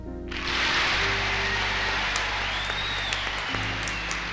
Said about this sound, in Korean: 상하원 합동 연설이었는데 의원들 전부 일어나서 기립박수를 했습니다